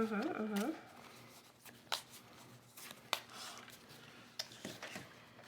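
A deck of playing cards is shuffled at a tabletop game, producing soft, close riffling and tapping bursts in an irregular rhythm after a short spoken phrase.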